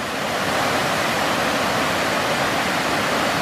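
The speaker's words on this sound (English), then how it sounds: "So this is the Gal Golao waterfall" A steady, powerful roar of falling water from Go Lai waterfall in Mai Chau, Vietnam, fills the air continuously, loud and close, with no other sounds standing out.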